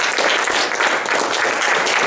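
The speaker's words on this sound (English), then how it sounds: "Those people deserve a round of applause." Applause fills the room in honor of the sponsors and partners of a motorsports series, a steady dense crowd clapping at a constant loud level for the whole stretch.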